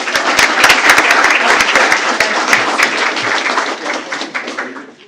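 An audience claps at a school board meeting for a student being congratulated, loud close applause from many people with a few heavy distinct claps, tapering off toward the end.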